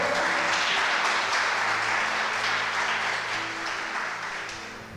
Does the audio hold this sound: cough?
no